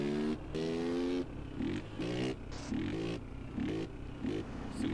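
A brand-new Honda Titan motorcycle engine revs in repeated sharp bursts, each climbing rev rising and dropping back in a choppy rhythm, loud and close with no talking.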